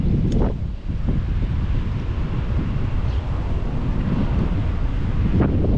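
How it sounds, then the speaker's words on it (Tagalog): Strong wind buffets the microphone in a constant, heavy roar, with occasional louder gusts and faint whooshing sweeps. "Yung anong malakas yung hangin"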